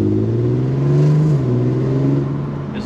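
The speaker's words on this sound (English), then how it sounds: "This is that raspy V6" A raspy V6 sports car engine with a DSG gearbox revs steadily up and then eases off, a loud, continuous nearby drone with no voices over it.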